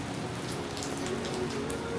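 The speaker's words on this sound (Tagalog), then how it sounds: "Kaso, ang lakas ng ulan." Heavy rain falls steadily in Taiwan, a dense, even hiss of drops pattering on surfaces with no one speaking.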